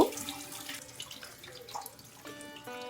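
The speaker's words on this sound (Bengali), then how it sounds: "এখন সবার আগে আমি আমগুলোকে ভালো করে ধুয়ে নেব" Raw mangoes are rinsed under a running kitchen tap, water splashing and pattering unevenly with small drips and gurgles, fairly close and moderately loud, with no one speaking.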